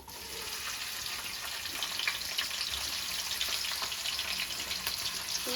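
Sliced onions sizzle in hot oil in a pan for a homestyle chicken curry, a steady, bright frying hiss that holds evenly throughout.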